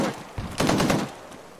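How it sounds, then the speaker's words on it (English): A short, rough volley of automatic gunfire from the video game Arma 3, fairly faint and muffled, with a louder burst in the middle that fades over about a second. "Did I hear shots left?"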